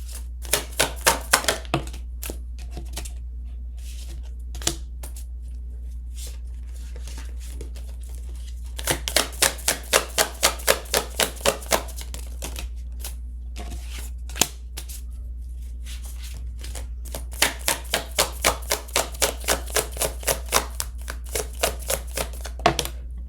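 Tarot cards shuffled in bursts of rapid crisp riffling clicks, with quiet pauses between rounds, close and alone over a low steady hum.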